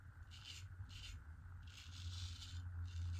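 A late-model Filly Palmera 14 straight razor with a deep hollow grind scrapes across stubble in short, crisp strokes, quiet and close, heard alone with a steady low background hum.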